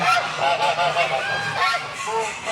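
A group of African geese honking repeatedly at a poultry show, overlapping loud calls close by, with a busy chorus of fowl in the background.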